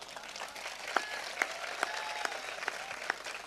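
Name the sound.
audience applause at a comedy show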